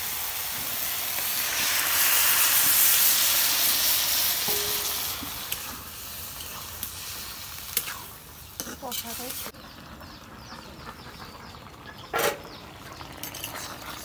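Water poured into sizzling eggplant curry in a pan sends up a loud hissing burst of steam that swells, then settles into a quieter simmering sizzle, with a few clinks of utensils.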